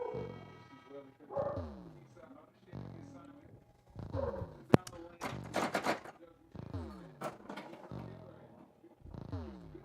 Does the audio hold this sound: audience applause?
no